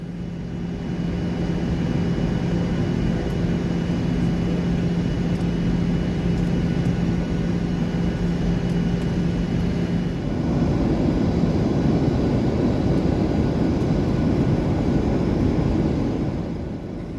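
Steady, loud cabin roar inside a Southwest Airlines airliner flying from Sacramento to Las Vegas just before landing, an unbroken engine and airflow drone that shifts in tone partway through, with no voices.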